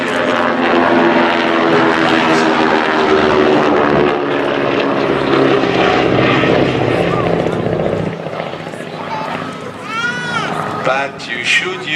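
A vintage propeller aircraft passes low at an air show, its loud piston engine droning and throbbing, then fading with a falling pitch as it moves away, with a commentator talking over it.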